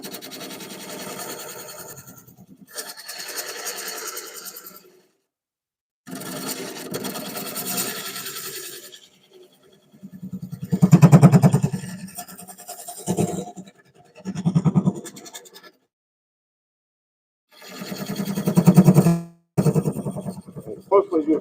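A carbide tool cuts a wooden bowl spinning on a lathe, giving rough scraping bursts that come and go in several loud passes, with talking heard between and over the cuts.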